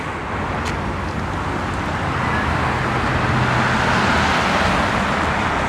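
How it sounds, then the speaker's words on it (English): Busy street traffic on a spring day in Regina, a steady broadband roar of passing cars that swells slightly as vehicles go by, heard nearby from the roadside with no talking. "And watch the traffic go by."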